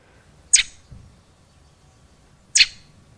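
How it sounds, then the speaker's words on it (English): A game character's sharp chirp sounds twice, two brief bright calls about two seconds apart, clear and alone over a quiet background. "Oh, we want to hear the chirp."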